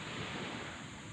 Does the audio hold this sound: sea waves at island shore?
yes